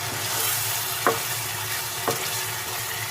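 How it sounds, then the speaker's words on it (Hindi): Minced beef keema and onions fry in a pan with a constant, close sizzle, broken by two short scraping stirs about a second apart. "अच्छी तरह मिक्स कर लेते हैं।"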